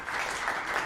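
Audience applause at a town council meeting, a steady, dense wash of clapping that holds evenly through a brief moment without any talking over it.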